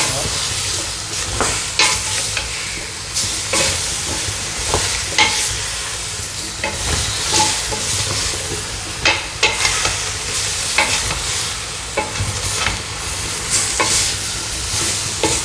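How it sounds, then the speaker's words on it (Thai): Black pepper is stir-fried in a hot pan, giving a loud, constant sizzle with repeated sharp spatula scrapes and knocks at an uneven rhythm, and no talking. "จากนั้นก็ตามด้วยพริกไทยดำบุกค่ะ ที่เราเอามาผัดเพราะว่าเขาจะได้หอมหอ"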